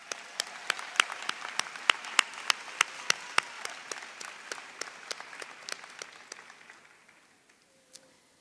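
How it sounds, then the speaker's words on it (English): Graduation ceremony audience applauding, with a few loud distinct claps standing out near the mic over a softer crowd wash, steady for about seven seconds before fading to near silence with one last stray clap. "send them love with a round of applause for being there for you"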